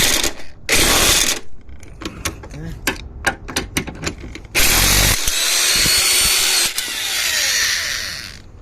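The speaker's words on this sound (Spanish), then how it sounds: "Vamos a poner los tornillos de abajo." A power tool drives the lower bolts into an engine mount on a 2012 Ford Focus, giving loud, close whirring bursts of varying length, with sharp clicks and clatter between the runs.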